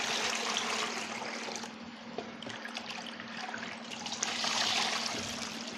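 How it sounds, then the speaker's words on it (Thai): Translucent taro balls for a Thai coconut-milk dessert are scooped out and plunged into a bowl of cold water, giving continuous splashing and trickling, moderately loud and close, with no voices. "เราจะตักเขาขึ้นมาน็อกในน้ำเย็นเลยนะคะ"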